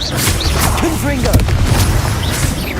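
Confringo fire blast spell cast in Hogwarts Legacy, a booming burst over a dense, busy combat mix with clashing impacts and magical whooshes.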